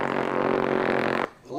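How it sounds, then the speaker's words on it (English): Rapid-fire machine guns on attack helicopters strafe enemy positions in one continuous buzzing burst of about a second, which cuts off abruptly. "That's the sound of rapid-fire machine guns strafing enemy positions."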